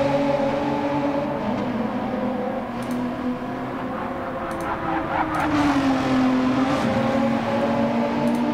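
A mid-engine, rear-wheel-drive race car in Gran Turismo 7 holds a steady, droning engine note throughout. The pitch dips and climbs again partway through, with faint ticks over the top.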